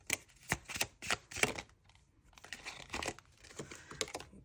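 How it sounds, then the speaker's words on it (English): A deck of tarot cards is shuffled by hand in a series of crisp, papery riffles and slides, a quick run of bursts, a short pause, then a longer rustling stretch, close and with no talk. "So those people don't think I don't know how to shuffle cards."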